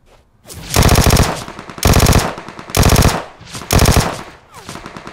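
Vector submachine gun fire in PUBG Mobile on the Miramar map, four sharp, loud full-auto bursts of roughly half a second each, separated by short pauses, close and punchy with no talk over them.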